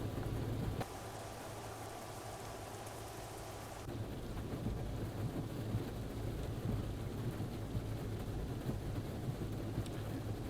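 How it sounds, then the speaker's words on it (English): Steady rain falls in a forest, a dense even hiss that steps up in loudness partway through, with no voices and no clear machine noise rising above the downpour. "Just driving through the rain in the forest with an excavator."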